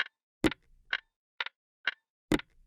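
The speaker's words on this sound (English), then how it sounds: "Then we got watch ticking with a ukulele tap on it." Watch ticking layered with a ukulele tap in a music sample, six crisp evenly spaced clicks about half a second apart, a couple landing heavier with a plucked body, close and alone.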